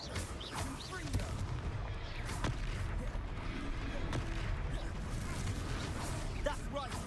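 Confringo blasting spell cast in the video game Hogwarts Legacy, with repeated sharp bursts and booming impacts over a busy combat rumble and occasional voices.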